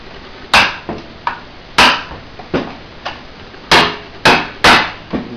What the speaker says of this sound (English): as we drive the chisel in there, it breaks the solder seal